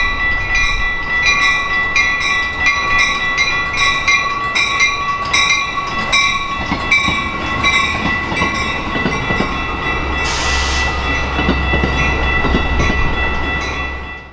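Metra and Amtrak Hiawatha passenger trains, one led by an ex-F40PH cab car, roll past at close range in downtown Chicago, steady rumbling and clacking on the rails, with a loud burst of hissing rushing noise near the end.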